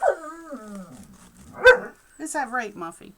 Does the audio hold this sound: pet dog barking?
yes